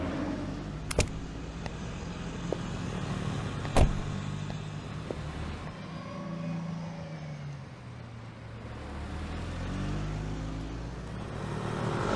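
A car on a street rolls to a stop and idles, its low engine hum steady beneath a couple of sharp clicks and brief knocks, with no one speaking.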